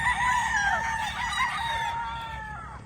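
A Black Gilmore stag, a young straight-combed gamefowl rooster on a game farm, crows one long drawn-out call that wavers and fades, close and clear with no talk.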